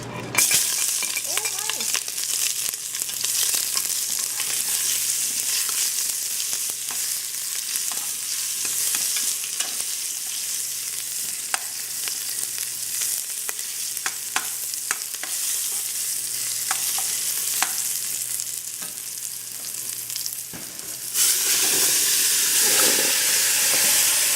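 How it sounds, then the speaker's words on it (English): Onion frying in very hot oil, home cooking in Trinidad, giving a continuous loud sizzle and hiss with scattered pops and stirring clicks, growing briefly louder near the end. "So oil have to be very hot. Yeah, so I fry my onion first."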